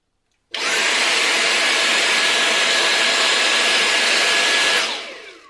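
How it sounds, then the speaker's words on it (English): A Dyson V8 Animal cordless stick vacuum starts abruptly and runs at a steady, loud, high-pitched whine with a broad airy rush, then spins down at the end, heard alone and close. "This could actually cool you off while you're vacuuming."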